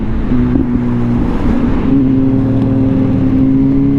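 A 2023 Kawasaki Z H2 supercharged motorcycle revving hard through an upshift, a loud continuous engine roar that dips briefly and then climbs in pitch again, heard close from the rider's position.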